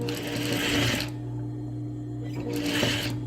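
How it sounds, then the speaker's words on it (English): A sewing machine stitches a dress seam in two close, loud bursts of rapid steady whirring, separated by a short pause. "So we're just going to stitch all the way around."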